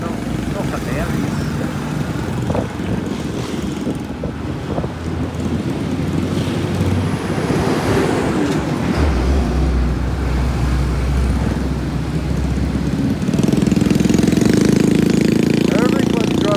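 Motorbike engine riding through busy traffic in Sosua, a loud, rough engine drone with wind and road noise, other vehicles passing, and the rumble swelling louder toward the end.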